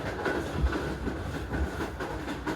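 The Shalimar Express rolling past Shorkot station, heard from inside as a steady rumble with rhythmic clickety-clack beats of the wheels over rail joints, moderately loud with no talking.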